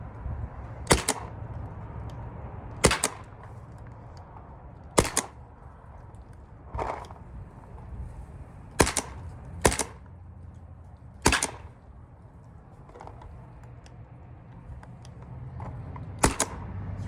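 A paintball or airsoft gun fitted with a DocFire Nummech regulated piston kit fires about a dozen sharp single shots through a chronograph, spaced irregularly a second or two apart over a low background hum.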